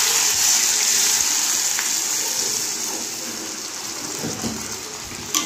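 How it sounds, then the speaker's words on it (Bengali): Water poured from a container into a cooking pan for a Bengali fish curry, a steady close splashing gush that gradually softens as the pan fills, with no talk. "এবার আমি এখানে পরিমাণ মতো জল দিয়ে দেবো"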